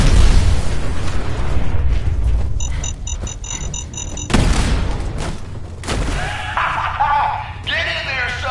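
Fireworks in the video game Fallout 4's Nuka World go off in loud booming bursts and crackling volleys. Beeping alarm tones and talk are mixed in with the explosions.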